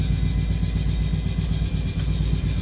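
A Mazda RX-3 rotary engine runs steadily from inside the car, a continuous mid-pitched drone with a rough pulsing texture and no break across the whole stretch.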